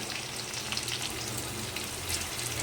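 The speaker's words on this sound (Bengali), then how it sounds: "পেঁয়াজগুলো সুন্দর ভাজা হয়ে গেছে।" Onions fry in a pan with a soft, even sizzle and crackle that holds steady at low volume. No voices are heard.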